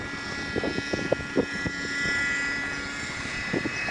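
RC Cessna model airplane coming in to land at a flying field, its small propeller engine a steady distant drone under scattered faint voices and handling noises.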